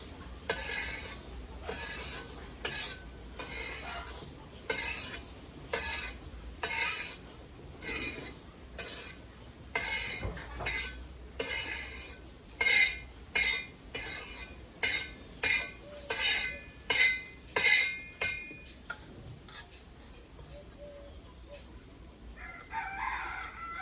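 Roasted rice is scraped and transferred from a pan onto a plate, giving a run of regular, fairly close scraping and clinking strokes over a low background hum that fades out toward the end.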